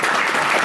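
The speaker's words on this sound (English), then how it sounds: "Please find a round of applause for Howdy" Convention dance competition audience applauding a dancer, a dense, steady burst of clapping from a crowd, loud and continuous over a short moment.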